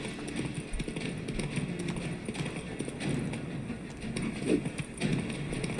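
Roach, a horse in the video game The Witcher 3, gallops in a steady clip-clop of hooves over continuous game ambience, with a few louder hoofbeats near the end.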